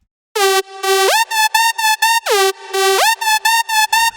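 Bright, buzzy synth lead playing a fast melody with the glide knob turned up, so notes slide into each other; loud, staccato repeated notes with two swooping pitch bends, no voices.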